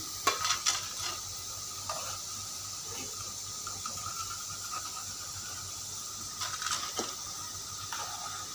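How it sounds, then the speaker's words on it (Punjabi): Moong dal frying in hot oil for a crunchy namkeen snack, with a continuous soft hiss and sizzle and a few faint clinks of a utensil stirring, quiet and close, with no speech. "ਦਾਲ ਆਪਣੀ ਚੰਗੀ ਤਰ੍ਹਾਂ ਫਰਾਈ ਹੋ ਗਈ ਆ ਇਹਨੂੰ ਆਪਾਂ ਹੁਣ ਤੇਲ ਤੋਂ ਬਾਹਰ ਕੱਢ ਲੈਣਾ ਹੈ"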